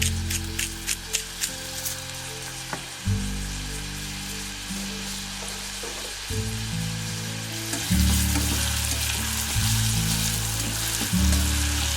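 Bream frying in a pan with green capsicum, salt and pepper, a steady close sizzle with a few sharp taps of a utensil at the start, continuing through the whole stretch alongside a droning hum.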